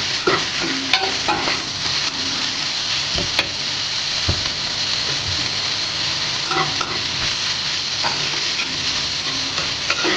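Pork igado frying in a pan while being stirred, a continuous close sizzle with scattered scraping and clinking as the spoon moves the meat, steady throughout and with no talk.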